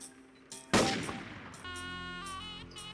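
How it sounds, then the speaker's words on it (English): Silenced sniper rifle firing in the video game Hitman Contracts, a single sharp shot with a decaying tail, followed by tonal game sound effects. "you can use your own briefcase and use your silent sniper rifle"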